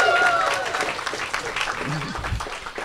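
A crowd at a Bugglebots 2019 robot-combat event applauds the team Hold My Beer, a brief burst of dense clapping that starts loud and tapers slightly, with someone talking over it.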